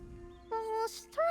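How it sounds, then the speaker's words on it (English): A goat in Elder Scrolls Online gives two short, nasal bleats, the second rising higher, close and fairly clear over a faint game background. "Strange goat."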